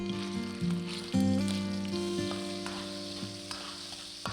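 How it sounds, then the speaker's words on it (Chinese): Pork belly is stir-fried in a hot wok, crackling with a steady oil sizzle while tonal scrapes and clanks of the spatula ring out across the pan, with no one talking. "下五花肉翻炒一会儿"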